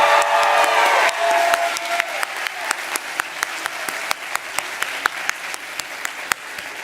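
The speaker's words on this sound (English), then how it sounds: "One more round of applause for Warren." After a speech at a law school graduation celebration, a crowd applauds in a dense burst that thins within a second into a steady rhythmic clapping, with sharp, near individual claps standing out over the fading audience.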